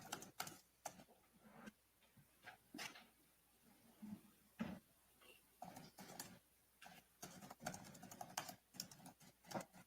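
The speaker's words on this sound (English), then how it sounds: "Is that the court reporter typing?" Rapid, faint keyboard typing in a courtroom during a pretrial hearing, quick irregular clicks in bursts, distant and quiet throughout.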